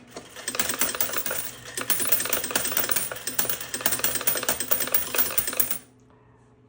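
Coins rattle rapidly out of a slot machine hopper on a payout, a dense steady metallic clatter for several seconds that stops abruptly, fairly close and with no talking.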